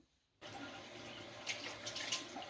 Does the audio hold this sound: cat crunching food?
no